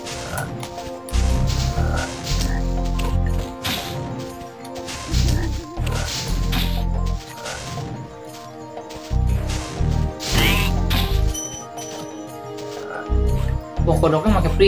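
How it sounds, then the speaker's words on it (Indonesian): Frogs in the PS1 game Spyro the Dragon, in the Dark Hollow level, croak in repeated loud, deep bursts spaced across the stretch, mixed with game music and occasional smashing effects. "Kodok."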